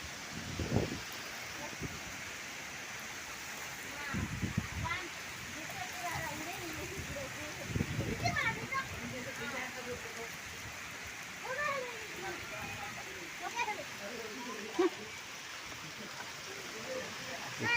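Steady rain falls with gusting wind during a monsoon shower, a soft, even hiss that stays fairly faint throughout, with brief voices and thumps breaking in now and then.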